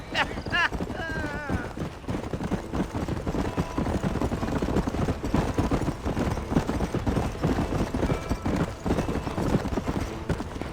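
A horse gallops across the world of the video game Red Dead Redemption, its rhythmic clip-clop of hooves steady and close, with a brief whinny near the start and game ambience underneath.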